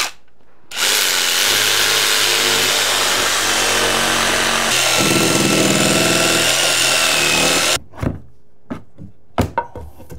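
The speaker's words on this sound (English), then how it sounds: "I'm gonna use a sawzall." A Sawzall reciprocating saw cutting through wall studs while a load-bearing wall is removed, loud and continuous for several seconds, then cutting off into a few sharp knocks and clunks of wood.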